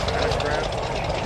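Stearman PT-17 biplane engine running at an airshow, a loud continuous propeller drone with people talking over it.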